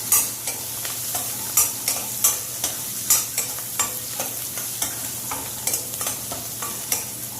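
Steady sizzle of onions frying in a pan, with a spatula scraping and clacking against the metal in a regular rhythm, close up, no voices.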